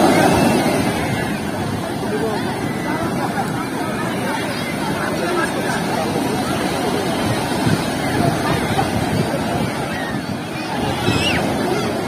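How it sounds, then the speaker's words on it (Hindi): Sea waves wash and roar continuously, mixed with wind buffeting the microphone, a dense steady rush throughout. "हम लोग अभी लहरों के साथ साथ जा रहा है"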